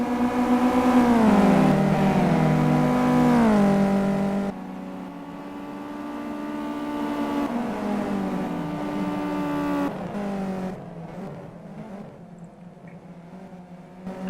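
Race cars in the Simraceway racing game roar past, engines whining and rising in pitch through gear changes, loud and up close, with several cars swapping in and out and no voices.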